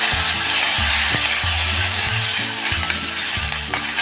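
Green chili and a pinch of asafoetida sizzle steadily in hot oil for a no-onion, no-garlic dal, a loud continuous crackle with stirring scrapes throughout and no voices.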